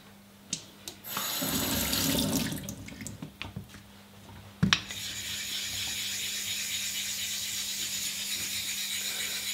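Running water from a tap splashes over a Shapton Kuromaku sharpening stone as it is cleaned, a steady close stream after a few brief splashes and knocks.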